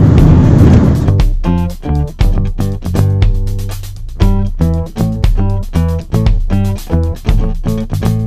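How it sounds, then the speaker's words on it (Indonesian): A sports car on a rough, potholed toll road, its engine note revving and shifting in steady pulses, loud and close from inside the cabin, with no talking. "kita mau uji coba ini test drive mobil sport"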